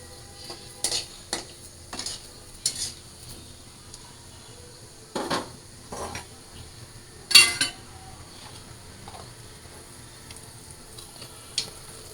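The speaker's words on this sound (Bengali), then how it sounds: "এখানে আমি কালো জিরার শুকনো মরিচ ফোড়নে দিয়ে দিলাম।" Black cumin and dry chillies tempering in hot oil, with a soft continuous sizzle under several sharp spoon clinks and stirring scrapes against the pan, close and without speech.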